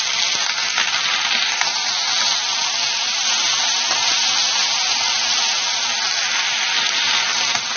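Dense, even sizzling of nalleru (veld grape) stem pieces frying in hot oil, loud and close, a continuous crackling hiss with no breaks and no talking.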